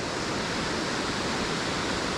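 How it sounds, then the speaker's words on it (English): A waterfall pouring down beside a cliff gives a loud, steady, broadband roar of rushing water that fills the whole stretch without any break. "I pointed my camera at the waterfall so I could get some square on shots."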